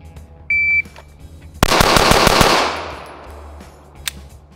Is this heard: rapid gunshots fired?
yes